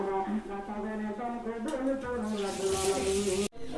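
Duck meat being washed under a running tap, with splashing water that grows louder and fuller partway through over a steady tonal hum, ending abruptly.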